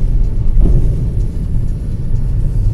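Low, steady vehicle rumble of cars rolling onto a small, nearly full ferry in Svendborg, Denmark, a continuous engine drone with no distinct peaks and no speech.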